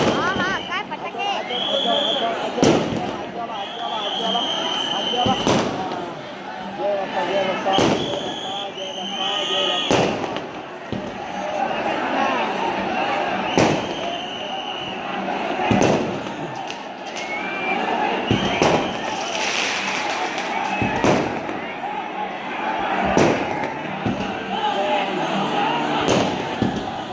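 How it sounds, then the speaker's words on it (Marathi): Firecrackers burst repeatedly during a palanquin procession, a string of sharp, loud cracks at irregular intervals over a steady crowd murmur, with people talking throughout. "हा हा काय फटाके"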